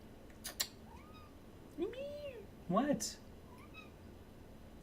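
A house cat gives a few short meows amid faint background noise, one rising-and-falling call followed by a brighter, warbling one, with a person briefly speaking nearby.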